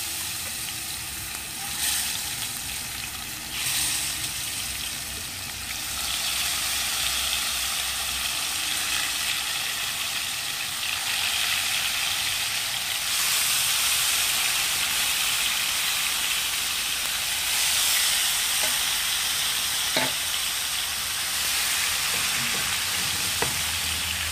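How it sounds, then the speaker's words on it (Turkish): Tomatoes frying in oil on a wood-burning kitchen stove, a steady, close crackling sizzle that runs throughout with occasional sharper pops and spatters. "Domateslerimi yağ atıyorum."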